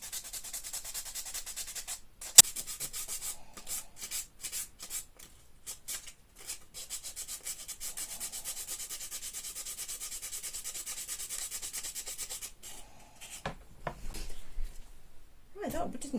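Sandpaper rubs steadily over a resin crystal cluster casting in quiet, rhythmic strokes, with a few pauses and a voice speaking at times.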